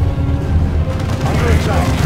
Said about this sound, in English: Once in range, I can disable it with a frag grenade.